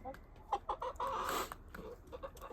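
Backyard chickens, a flock kept at home, cluck in short uneven bursts close by, with one louder squawking stretch in the middle and softer clucks after it.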